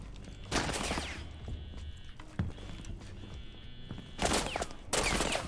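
Bursts of gunfire in a Rainbow Six Siege gunfight, two dense loud volleys at the start and end with sharper single shots between, over a constant background hum.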